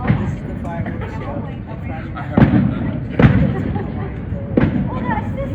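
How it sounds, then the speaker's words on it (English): A fireworks show at the Hilton in Waikiki, Hawaii, sends out three sharp, booming bursts spaced a second or so apart over a background of crowd chatter and nearby voices. "This is the fireworks show."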